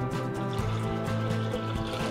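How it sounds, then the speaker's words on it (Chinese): Sparkling water poured into a WOKY Ti titanium round cup, a close, steady liquid pour and fizz lasting about two seconds over a low background hum. "那我们先把气泡水倒在里面"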